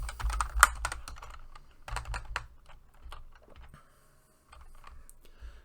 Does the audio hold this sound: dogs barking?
no